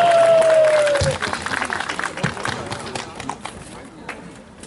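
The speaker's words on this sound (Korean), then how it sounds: "박수 부탁드리겠습니다." An audience at an outdoor stage concert along a mountain trail applauds, the clapping loud at first and then thinning, while a voice talks over it and a sliding tone fades out at the start.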